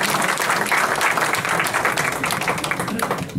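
Dense, steady audience applause fills a mushaira (Urdu poetry gathering) hall, many hands clapping continuously at an even loudness throughout, with no break.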